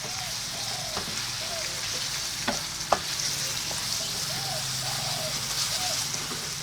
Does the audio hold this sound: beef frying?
yes